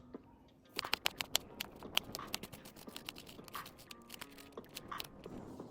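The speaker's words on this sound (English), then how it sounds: "the first thing I'm gonna do is cut up my onions" A knife chopping onions on a cutting board, a close, fairly quick series of light taps and crisp slicing clicks with uneven rhythm, no voice heard.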